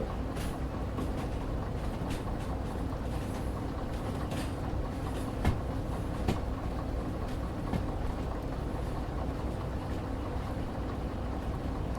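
A very fast train runs in the video game Derail Valley, giving a steady, broadband rumble and rush with faint clicks and clanks throughout and no talking.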